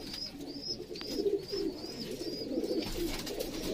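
Breeding pigeons coo in soft, repeated low calls from several birds at a breeding setup, with thin chirping whistles above them and no voices.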